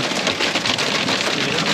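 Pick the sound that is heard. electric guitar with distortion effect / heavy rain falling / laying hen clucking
heavy rain falling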